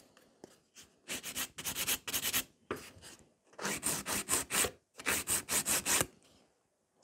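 A nail file scrapes along a fiber gel stiletto nail to shape it, giving close, rhythmic bursts of rasping strokes in quick groups separated by short pauses.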